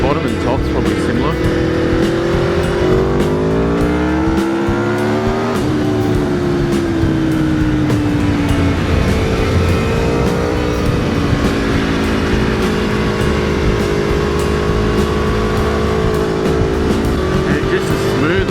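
An Aprilia Tuono V4 1100 Factory motorcycle pulls hard through its revs, the loud V4 engine note climbing and shifting through gears in repeated surging sweeps, close and constant with wind.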